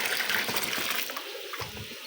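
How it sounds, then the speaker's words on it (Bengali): Water pours and gushes into a plastic chicken drinker pot on a poultry farm, a close, steady splashing fill that eases slightly toward the end, with no talk. "পানির পটটি আমি সুন্দর করে আগে ধুয়ে রাখছিলাম এই কারণে এখন ভরতে সুবিধা হইতেছে"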